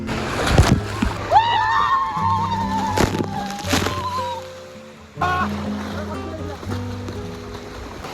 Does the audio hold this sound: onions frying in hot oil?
no